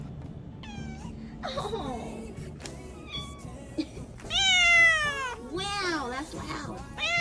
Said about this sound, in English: Collection of meows.